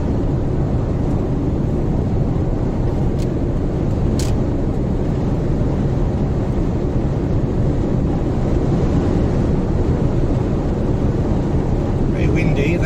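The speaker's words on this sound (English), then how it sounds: "Very windy. I don't know if you can hear the wind." Strong wind roars into the microphone during a road trip in southern Spain near Salobreña, a loud, unbroken rumble that lasts throughout.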